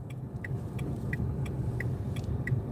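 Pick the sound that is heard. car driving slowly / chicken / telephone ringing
car driving slowly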